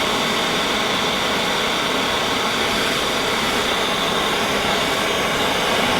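A torch heats a seized hydraulic part on a Ferguson TEA20 tractor, giving a steady, loud roaring hiss that holds unbroken for the whole stretch with no talk.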